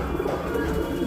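A pigeon gives a low, steady coo close by, one short continuous call with no voices over it.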